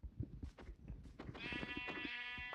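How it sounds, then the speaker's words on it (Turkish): Sheep in Minecraft bleat in a couple of clear, close calls over light game sounds, the last bleat drawn out and steady. "Burada da koyunlar var."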